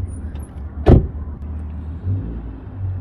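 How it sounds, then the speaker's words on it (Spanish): A car is locked with a remote on a cold evening: one sharp, brief lock sound stands out near the start over a low, steady background rumble, with no talking. "que no se me olvide ponerle candado al carro"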